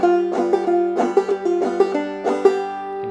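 A clawhammer banjo played with steady brushed strokes in a chugging, train-like rhythm, its bright ringing notes close and alone with no talking, the repeated strums falling in an even marching pulse.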